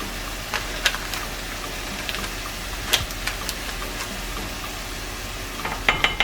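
Madras curry powder, two tablespoons, being stirred into a pan with tomatoes and aromatics for Madras chicken: a soft, steady sizzle with scattered scraping clicks of a utensil, a few sharper taps near the end, no talking.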